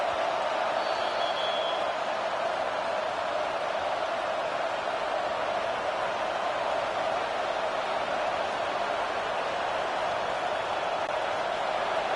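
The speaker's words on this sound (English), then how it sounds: "This crowd knows this defense needs them right now." Stadium crowd noise in the college football video game NCAA 25, a steady, dense roar that holds at an even level throughout without breaks.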